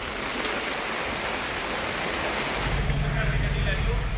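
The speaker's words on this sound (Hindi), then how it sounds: "अचानक हुई बारिश से शहर में सैलाब आ गया है।" Heavy monsoon rain floods city streets, a dense steady roar of water that swells into a deeper rushing surge partway through.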